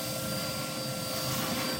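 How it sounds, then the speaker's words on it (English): A powerful hoover runs steadily as it cleans the brick back of a Chesneys Salisbury 5WS Ecodesign stove fireplace, giving a continuous close-up roaring whine with a faint high tone throughout and no talk. "Powerful hoover this is."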